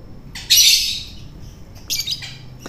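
A pet lovebird lets out a loud, harsh squawk up close, followed after a pause by a shorter burst of raspy chirps, with no talk over it.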